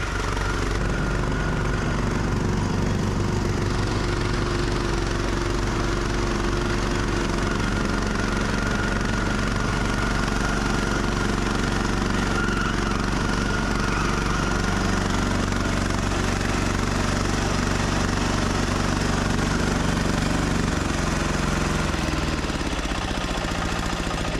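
A diesel snow blower engine runs steadily and loudly throughout, a continuous rough mechanical drone with no pauses or voices.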